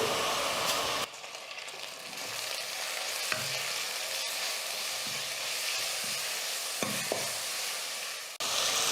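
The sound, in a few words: sautéing tomato with ginger garlic paste for mutton kulambu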